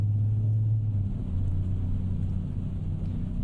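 A DAF XG truck engine in a truck driving video game gives a loud, steady low rumble that drones on without a break.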